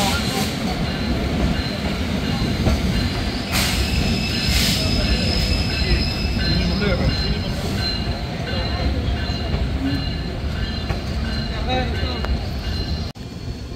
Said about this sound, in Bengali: ট্রেনটি প্রবেশ করলো তার দ্বিতীয় যাত্রাবিরতি স্টেশন রুহিয়ায়।